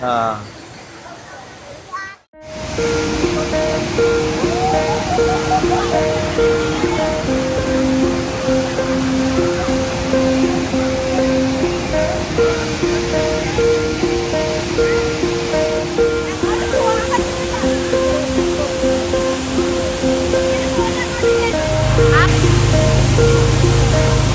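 Rushing water at a waterfall with a strong current pours in a steady, loud wash that runs continuously, with family members chatting over it.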